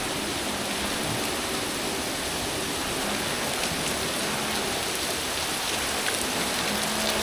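Steady, dense rushing water fills the scene without pause, a broad even roar from the nearby Huai Sin Chai waterfall in Khong Chiam, Ubon Ratchathani, Thailand, with no voices.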